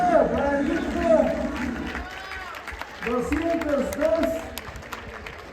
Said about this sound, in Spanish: Fuerte el aplauso para el grupo